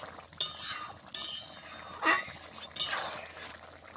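A spoon works through soft, fully cooked potato in chicken curry in a pot, giving a few separate scraping, clinking strokes against the metal with short quiet gaps between them.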